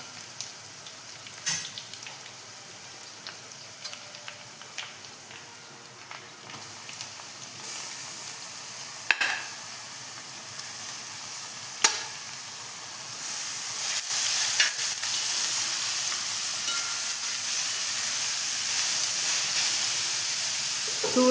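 Beetroot frying in a hot pan for pickle, hissing and sizzling steadily, with occasional clicks and scrapes as it is stirred; the sizzle swells louder partway through and stays strong.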